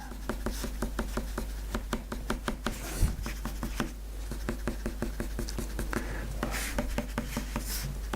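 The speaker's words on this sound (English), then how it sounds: "Use a darker pencil now, a bit more detail." A colour pencil scratches across paper in quick, repeated strokes, close and soft, with a steady low hum underneath and a single thump partway through.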